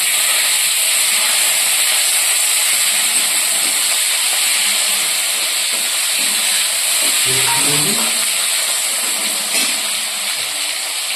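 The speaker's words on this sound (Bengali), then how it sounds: "এরপর এখানে দেব আগে থেকে কেটে রাখা টমেটো আর কাঁচা লঙ্কা।" Tomatoes and green chilies go into chicken frying in a pan, giving a steady loud hiss and sizzle throughout with faint stirring knocks beneath, no voices.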